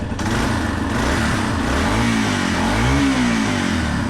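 A motorcycle engine runs after a repair at a motorcycle shop, steady and loud throughout, with the pitch rising and falling as it revs.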